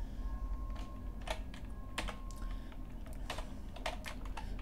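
Keys on a computer keyboard are tapped in quick, uneven clicks at close range over a low steady hum, while Ruby code is being written, with no voices.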